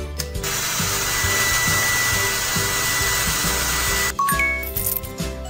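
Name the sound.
hair dryer in a video game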